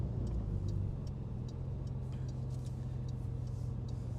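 A 2023 Porsche 911 GTS engine drones steadily from inside the car while driving, a loud, continuous low rumble holding even throughout with faint ticking above it.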